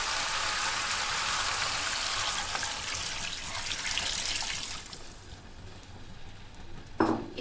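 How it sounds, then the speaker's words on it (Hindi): Water pours steadily from a jug into a pot of beef paya with onions, a continuous splashing stream for several seconds, then tapers off, ending with a brief clunk. "इसके अंदर मैं 1 जग भर के पानी डालूंगी"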